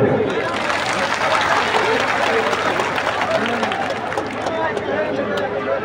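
A large crowd claps at a Kurmi community political rally in Purulia announcing a Lok Sabha candidate, loud sustained applause mixed with crowd noise and a voice speaking over it.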